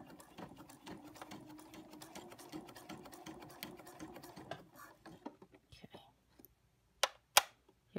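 A sewing machine stitches a straight seam in a steady fast whirr, then slows to a few spaced stitches and stops, followed by a couple of sharp clicks.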